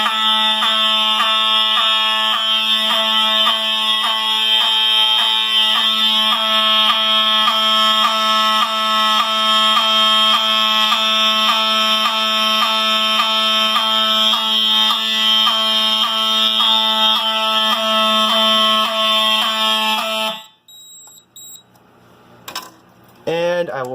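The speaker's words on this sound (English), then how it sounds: "The EH horn will still go off because that's still paired to NAC 1." An Edwards EH fire alarm horn blares steadily up close during a FireShield system test, a loud pulsing electronic honk that runs for about twenty seconds before cutting off into faint clicks and handling noise.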